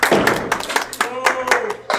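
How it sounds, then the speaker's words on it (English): Scattered audience claps at a bowling match, a few separate hand claps in irregular rhythm with people talking between them. "Now we get some applause."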